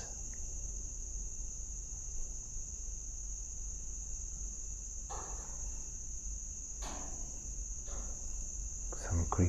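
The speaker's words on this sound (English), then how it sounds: "crickets" Steady, continuous cricket chirping fills a quiet outdoor night, a constant high trill with faint creaks and rustles now and then beneath it.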